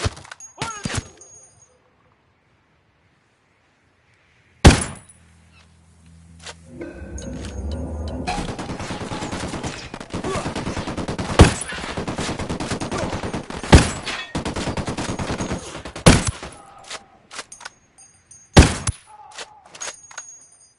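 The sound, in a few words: gunfire in the video game Ghost Recon Wildlands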